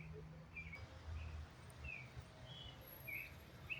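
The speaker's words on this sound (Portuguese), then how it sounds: "o barulho do pássaro." Birds chirp in a forest park in Goiânia, a handful of short, high calls scattered across a few seconds over a quiet, faintly rustling background with distant low rumble.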